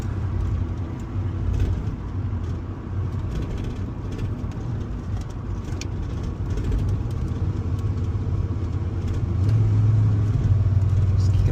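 Steady in-cabin drone of a 1980s-era HSV VN Commodore SV LE V8 on the move, a continuous low engine rumble with road noise that swells slightly toward the end.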